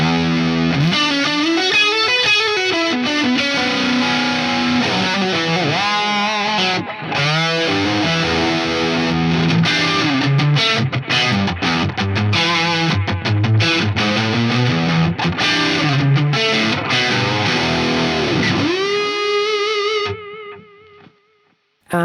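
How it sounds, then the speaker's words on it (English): A distorted electric guitar plays a busy riff through a dark, Memory Man-style stereo delay, smeared echoes trailing behind it, then rings out and decays into near silence at the end. "This is kind of like a dark Memory Man style delay in stereo."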